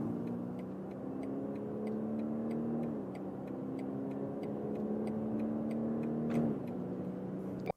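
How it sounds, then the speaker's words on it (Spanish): A BMW X3 xDrive 30e in Sport mode accelerating hard from 60 km/h, heard as a steady drone from inside the car that climbs in pitch, drops briefly at a shift, then climbs again, with faint regular ticking. "lo ponemos en modo Sport para la máxima potencia. Salimos de 60 km por hora."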